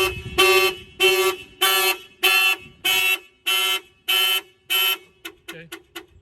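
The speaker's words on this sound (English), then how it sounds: "If somebody bangs in the vehicle, the alarm will fire off" Car alarm on a Mitsubishi Evolution 8 sounding eight loud, steady honks in an even rhythm, followed by a few short, quick chirps as it stops, with no talking.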